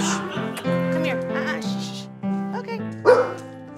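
Dogs and puppies at an animal rescue bark and yelp in short overlapping bursts close by, mixed with a few bleating-like whines, while people talk nearby.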